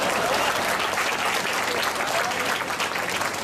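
A crowd at a Hasya Kavi Sammelan comedy poetry event at Nerul Gymkhana applauds, a loud, dense, sustained burst of many hands clapping close by, with no voices over it.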